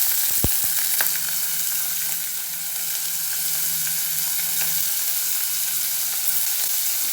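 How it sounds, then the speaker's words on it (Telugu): Onion, green chili and curry leaves fry in hot oil for a Telugu-style bottle gourd tomato curry, giving a steady close hissing sizzle with a couple of sharp utensil clinks near the start and no talking. "నూనె కాగిన తర్వాత ఉల్లిగడ్డ, పచ్చిమిర్చి, కరివేపాకు వేసేసిన"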